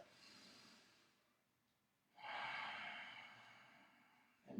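A soft, slow breath during a yoga sculpt class: a faint exhale, a pause, then a longer, breathy exhale up close, with a sharp inhale starting at the end.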